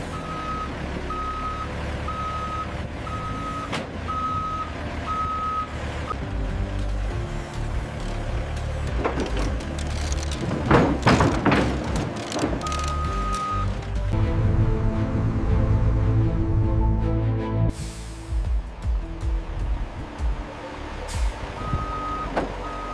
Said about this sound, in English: these bales are ready for the waiting transport truck